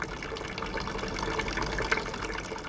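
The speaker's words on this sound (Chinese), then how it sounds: "有一条小溪，溪水潺潺" A babbling stream runs in a continuous gurgling, splashing flow, fairly close and steady for a few seconds, with no voices over it.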